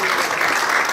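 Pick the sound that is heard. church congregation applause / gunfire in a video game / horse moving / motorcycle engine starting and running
church congregation applause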